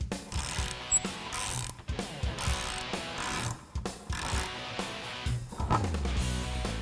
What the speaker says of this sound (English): I'm going to take this off with a 19mm socket and a ratchet.